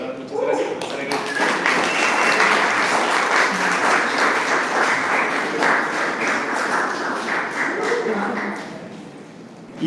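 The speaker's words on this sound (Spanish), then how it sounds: "igualmente pido un aplauso, por favor, para Vane, Adriana" An audience applauds steadily for several seconds, a dense wash of clapping with faint voices beneath, fading near the end.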